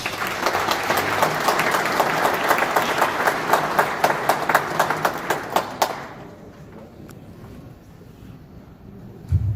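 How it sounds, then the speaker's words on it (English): An audience claps at a Kosovo Independence Day celebration in New York City, a full crowd applauding steadily for several seconds before it quickly dies away into near silence with a few scattered final claps. "Let's give a nice round of applause."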